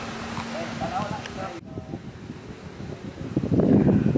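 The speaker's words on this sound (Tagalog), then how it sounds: "Medyo malakas ang hangin, medyo maingay siya kasi nandito kami sa tuktok." Strong wind on the mountaintop of Canghunog-hunog buffets the microphone with a roaring, gusty rush that swells louder toward the end, with a voice faintly audible underneath.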